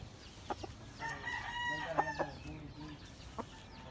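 White claret street comb rooster with white legs, a close, clear crow rising and falling over about two seconds, framed by short clucks before and after.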